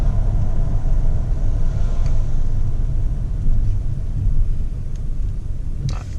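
A 2020 Ford Raptor fitted with AMS boost tubes pulls hard, its loud engine rumble and road noise heard from inside the cab, sustained and steady with a faint whistle near the end.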